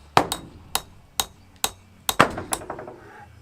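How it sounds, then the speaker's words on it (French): A hammer strikes metal to bend it during renovation work on a pallet shed, seven or eight sharp, ringing blows at a steady pace, close and loud, with a quick cluster of lighter taps near the end. "peut-être lui mettre un gros coup de marteau sur la gueule"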